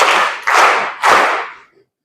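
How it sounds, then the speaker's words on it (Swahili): Three strong bursts of applause from a crowd at a seminary graduation ceremony for fourth-year theology students, each round loud and close, the last fading out. "Naomba pia tuwapongeze kwa makofi ya nguvu matatu."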